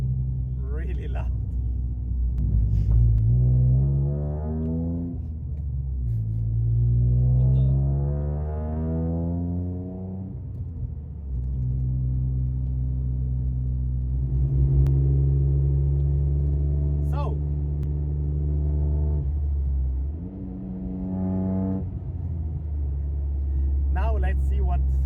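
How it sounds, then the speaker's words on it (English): A tuned 430-horsepower Toyota GR Yaris with Kelford camshafts and valve springs drones loudly from inside the cabin on a test drive, its engine note rising and falling through repeated gear pulls with steady low rumble throughout. "I don't know if you can hear it, but the car is really loud."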